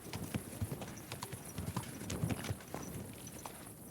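Horse hooves clip-clopping at a steady walking rhythm in the video game Kingdom Come: Deliverance II, soft repeated thuds over a hissy ambient bed.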